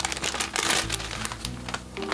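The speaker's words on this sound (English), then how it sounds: "This is the package of Elfin Knights. Just a plastic bag" A plastic bag package for a Japanese toy blaster figure crinkles and crackles in a run of close, irregular rustles, with no talking.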